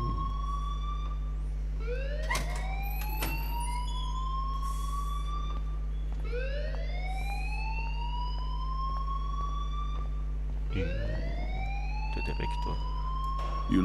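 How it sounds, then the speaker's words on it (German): An alarm blares in the video game Life is Strange, a rising siren-like wail that sweeps upward in repeated cycles about every four seconds over a constant low hum, loud and continuous. "please turn off that alarm since that's your job"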